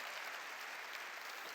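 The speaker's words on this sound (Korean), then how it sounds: "믿으면 박수로 하나님께 영광 돌리십시오." Faint, distant clapping rises from a church congregation at a New Year blessing revival service, a soft, continuous patter of many hands lasting a moment.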